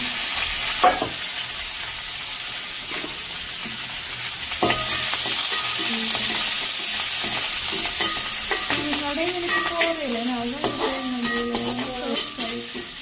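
Onion, green chilli and curry leaves fry in a pan with a loud, continuous sizzle and crackle, close by, while a voice speaks softly over it near the end.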